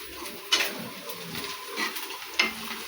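Onions are stirred in a cooking pan as tomatoes go in, giving a faint, low sizzle with a few sharp scraping knocks spaced across a couple of seconds, with no talking.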